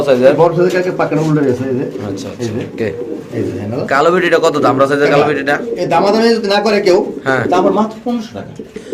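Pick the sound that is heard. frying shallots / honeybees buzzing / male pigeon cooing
male pigeon cooing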